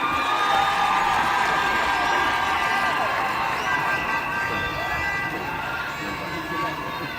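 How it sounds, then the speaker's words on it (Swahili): Crowd applause at a formal Kenyan state ceremony attended by President William Ruto, loud and continuous for the whole stretch with a dense wash of clapping and cheering voices, slowly easing toward the end. "Makofi tafadhali."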